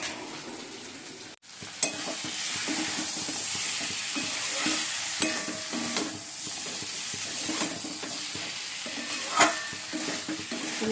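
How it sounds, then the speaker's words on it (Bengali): Potatoes stir-fried in a pan for a Bengali home-cooked meal, a steady sizzle and frying hiss with repeated scraping and stirring strokes of a spatula, close and continuous with no talk. "আমরা আলুগুলো ভালো করে কষিয়ে নিচ্ছি"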